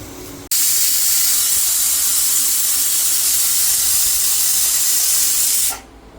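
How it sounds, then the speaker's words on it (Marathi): A pressure cooker whistle lets out a loud, steady hiss of escaping steam in a home kitchen, starting abruptly and holding for about five seconds before cutting off. "फायनली दोन शिट्ट्या झालेल्या आहेत आता तिसरी शिट्टी झाली की"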